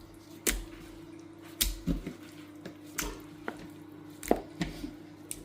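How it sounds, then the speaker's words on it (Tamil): Chicken lollipop pieces dropped into a wet batter, producing several soft, squishy thuds and splats at irregular intervals, with quiet kitchen background. "இப்போது சிக்கன் லாலிபாப்பை இதில் சேர்த்துக்கணும்"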